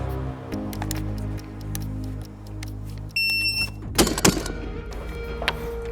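Two quick pump-action shotgun shots fired with cheap training buckshot, a sharp pair of loud cracks close together near the end, preceded by quieter handling noise and a brief electronic beep.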